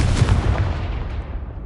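A Confringo blasting spell explodes in a Harry Potter video game, a loud booming blast with a rumbling tail that decays over a second or so.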